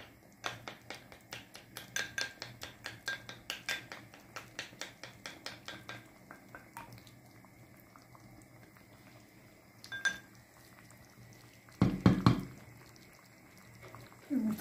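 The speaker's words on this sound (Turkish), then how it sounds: "Şöyle yumurtamızı da şöyle biraz çırpıyorum." A fork rapidly beats an egg in a bowl, a run of quick, regular clicking taps for several seconds, then a few scattered knocks and a louder clatter near the end, close and moderately quiet.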